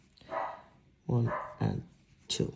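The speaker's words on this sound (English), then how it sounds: "That's the dog going crazy every time somebody leaves the house here." A house dog barks three times in short, loud bursts, close by, while a person talks.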